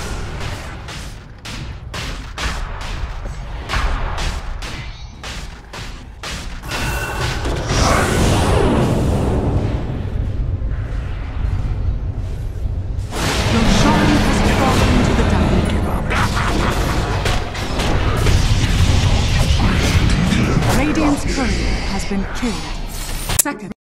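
A Dota 2 team fight at a tower, with dense clattering attack hits, whooshes and booming spell impacts piling up continuously over looping game music.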